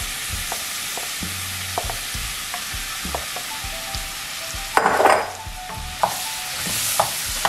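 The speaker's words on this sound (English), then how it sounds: "so now I want to go ahead and add my apples. And I got the heat on about a medium there." Apples fry over medium heat in a pan, giving a continuous sizzle, while a utensil stirs them with repeated scraping clicks and a louder burst of sizzling and clatter midway.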